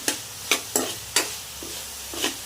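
Soybean rice being stirred and sautéed in a pan, with a spoon scraping in sharp, evenly spaced strokes, about five loud scrapes over a soft frying background, no talking.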